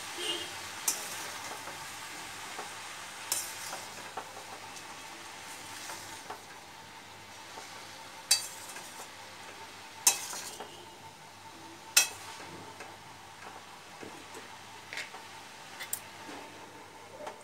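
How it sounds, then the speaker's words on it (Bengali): Chopped ash gourd stirred with spices in a pan, a spoon scraping and clinking at intervals against the metal over a soft steady sizzle. "মশলার সঙ্গে একটুখানি এটা নেড়েচেড়ে মিশিয়ে নেব।"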